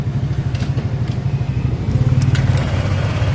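A Honda Click 125 scooter idling with a faulty cam chain tensioner, its loud, close engine drone carrying a rapid, steady ticking clatter throughout.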